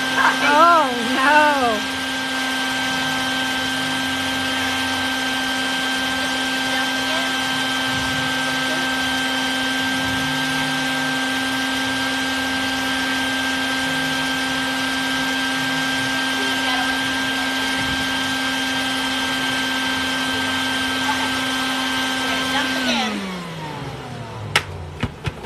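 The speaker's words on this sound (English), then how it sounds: "They're going to empty the vacuum bucket into the swarm trap." A bee vacuum sucking up a swarm of bees from a large birdhouse hive whines loudly and steadily with a high motor tone, then spins down and cuts off near the end.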